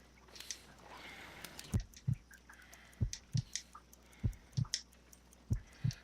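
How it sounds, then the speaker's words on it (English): Slow, weak heartbeat in a Sherlock Holmes crime-solving video game, about 50 beats per minute, with paired low thumps repeating steadily and fairly close over faint background music. "I need to concentrate and count the heartbeats."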